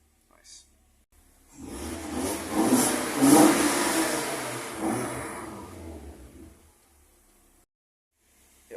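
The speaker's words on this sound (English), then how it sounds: "The manifold gives it a nice kind of zingy, raspy sound, which is nice." An Audi 90 20v engine revs up through its manifold with a zingy, raspy tone, swelling to a loud peak and then falling back toward idle, with nearby talk around the rev.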